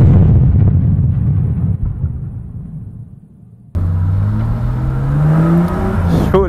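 A car at a drift session opens with a low, rough rumble that fades. Then the engine revs up loudly with a steadily climbing whine, close and unaccompanied by talk.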